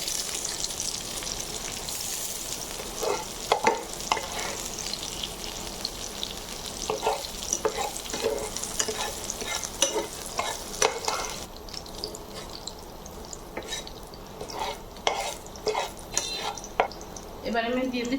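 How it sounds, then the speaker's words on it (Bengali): Fried onions being lifted out of hot oil while cooking koi fish: steady close sizzling with scattered clicks and scrapes of a utensil, a voice faintly present at times. "আমি পেঁয়াজগুলো তুলে নিচ্ছি।"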